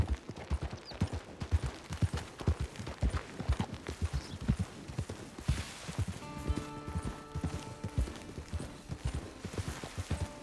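Horse hooves clip-clop in a steady walking rhythm in the video game Red Dead Redemption 2, repeated thuds over an outdoor ambience, with a short musical passage rising in the second half.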